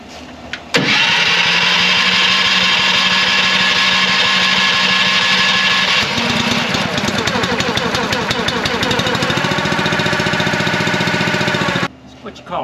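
An engine on the farm sprayer rig runs loudly on choke, starting abruptly and running rough with a steady drone that shifts into a faster, uneven pulsing midway before cutting off, while someone talks over it.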